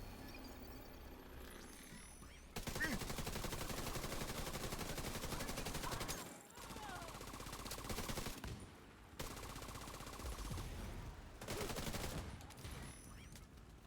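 Sustained bursts of rapid automatic gunfire blast at enemies in a video game, several long volleys separated by brief pauses, loud and dense throughout.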